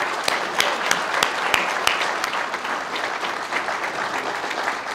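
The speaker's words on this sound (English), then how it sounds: "Please give them a round of applause." Audience applause for co-winners at a state trooper of the year award ceremony, steady clapping with a few sharp individual claps standing out early before settling into an even wash.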